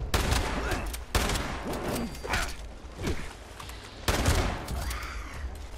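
Weapon fire in the video game Fallout 76, loud crackling bursts of rapid shots in several waves with brief pauses between them, close and dominant.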